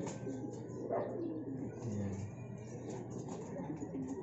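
Young pigeons coo softly in a loft, low murmuring calls repeating close by over a quiet, steady background.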